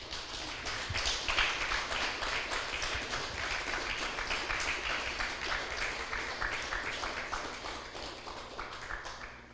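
Steady applause from a church congregation at a worship service, dense even clapping sustained for nearly ten seconds before tapering slightly at the end.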